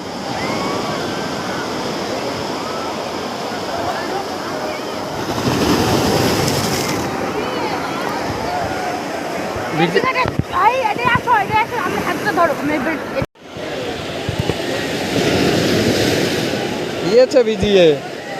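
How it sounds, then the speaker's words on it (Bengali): Waves break repeatedly on the shore at Digha beach in a rolling, rushing wash, with wind noise and people speaking close by over the surf. "আর ঘন ঘন ঢেউ আসছে দেখেছো"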